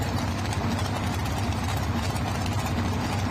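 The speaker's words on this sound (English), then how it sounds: "Same engine as the Backdraft Sonny Leonard truck pull motor." A Chevrolet Hemi mountain motor in a truck pulling competition at Rock Valley, Iowa, roars as a steady, dense, loud low drone with no talk over it.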